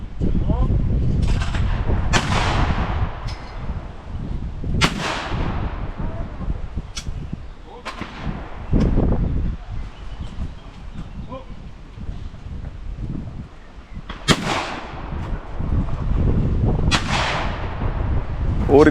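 Shotgun shots boom out one after another at a compact sporting clay shooting range in Sairme, loud sharp blasts spaced a few seconds apart over steady outdoor wind noise.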